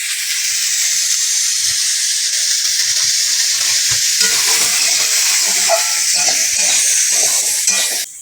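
Papaya and potato chunks with turmeric fry in a hot pan, a steady loud sizzle and hiss running throughout with occasional scrapes of stirring, ending abruptly.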